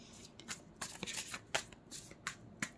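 Tarot cards riffled and shuffled by hand, then drawn from the deck, giving a series of quick papery flicks and snaps at close range with no talking.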